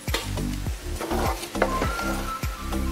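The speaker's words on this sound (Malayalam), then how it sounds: "എല്ലായിടത്തും പിടിക്കുക, നന്നായിട്ട് ഇളക്കി കൊടുക്കുക." Spoon scraping and stirring flattened rice with jaggery in a pan over low heat, rhythmic strokes roughly every half second with a light sizzle underneath, close and clear with no talk.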